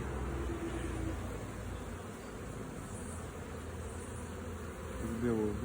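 Honey bees droning steadily around a hive during a swarm check in Dominica, a dense continuous buzz close by with individual insects briefly whining louder as they pass near.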